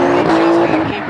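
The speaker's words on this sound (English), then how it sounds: "Conor Shanahan in the Shanahan 180SX, 600 brake horsepower under the bonnet as he clouds out the arena" A 600 bhp Nissan 180SX with Link engine management drifts at Rockingham during a British Drift Championship round, its engine holding a loud, steady high note with tire squeal mixed in, close and intense.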